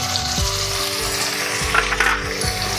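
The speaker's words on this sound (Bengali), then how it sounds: "এরপরে আমি একটু কষাবো" Spiced brinjal with a little turmeric fries in a pan, giving a loud, continuous sizzle with occasional low knocks from stirring and no talking over it.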